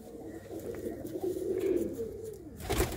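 Pigeons coo softly in low, rolling calls, one following another, fairly close and without talk.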